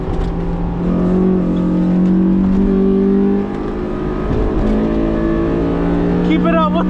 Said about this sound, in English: I just love high revving Honda motors.